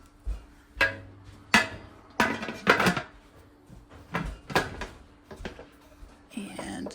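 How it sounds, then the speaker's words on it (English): A metal lid set onto a canning pot filled with about two inches of water, heard as several sharp clanks and clattering knocks of metal on metal close by, scattered across the stretch with brief pauses. "We're going to put our lid on."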